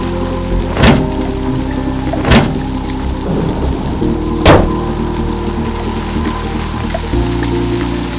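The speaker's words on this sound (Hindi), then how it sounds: "बारिश जो थोड़ी थमी थी, एकाएक फिर झमाझम बरसने लगी" Heavy rain pours steadily as a broad, continuous wash, with three sharp loud cracks of lightning-driven thunder standing out over it, no speech.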